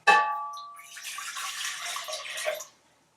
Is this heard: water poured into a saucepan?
yes